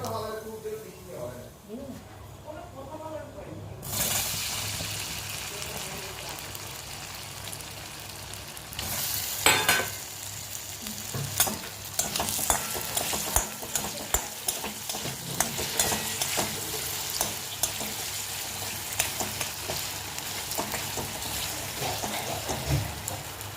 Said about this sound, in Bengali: লঙ্কা আর সর্ষে ফোড়ন দেওয়া হয়েছে।